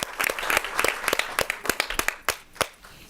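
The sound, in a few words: audience applause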